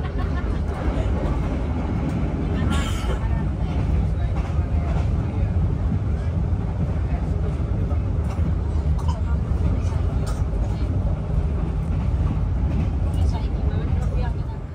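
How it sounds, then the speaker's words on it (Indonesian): Dharmawangsa train pulling into Babat station in Indonesia, a loud, steady low rumble of the train and carriage noise with a voice talking over it. "Kereta api Dharma Wangsa telah tiba di stasiun Babat."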